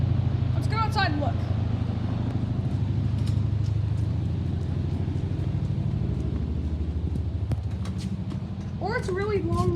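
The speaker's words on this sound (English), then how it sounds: "Yeah, it's a helicopter." A helicopter flies overhead outdoors, a steady, loud, low pulsing rotor rumble that holds for the whole stretch while people talk over it.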